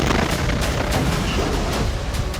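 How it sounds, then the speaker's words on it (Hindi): Explosion targeting an Israeli Merkava tank in the narrow lanes of Jabalia camp, heard as a rumbling, booming barrage with repeated sharp blasts over a continuous low roar. "हमास के लड़ाकों ने इजरायल के मरकावा टैंक को धमाके में उड़ा दिया"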